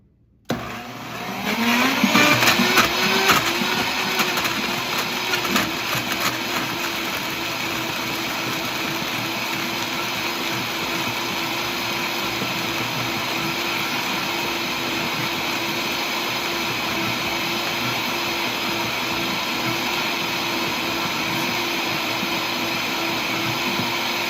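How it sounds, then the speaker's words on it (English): A blender with a tamper blitzes strawberries, dates, very ripe bananas and lemon juice, starting with a quick spin-up and then holding a loud, steady whirring roar for over twenty seconds, with no talking. "So I'm gonna go ahead and blend this next."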